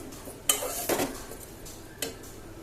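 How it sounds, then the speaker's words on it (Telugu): A ladle stirs drumstick curry in a pan, with a few separate scraping, clinking knocks of metal on metal, quiet and close, and no voice. "నాకు ఎగరేయడం రాదు కాబట్టి గరిటెతో కలుపుతాను."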